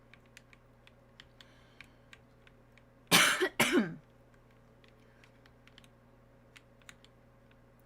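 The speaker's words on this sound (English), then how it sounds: "I'm coughing a lot today." Two sharp, loud coughs in quick succession from a person at a computer, set against quiet, scattered keyboard typing clicks, with a brief muttered word in the background.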